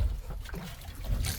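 A fishing boat moving over open sea at night, with a steady low rumble and wind buffeting, waves sloshing and splashing around the hull.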